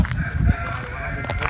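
A black Kadaknath rooster crows on a farm in a brief, close call, heard against farmyard background noise.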